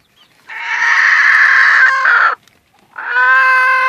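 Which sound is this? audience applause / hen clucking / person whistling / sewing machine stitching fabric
hen clucking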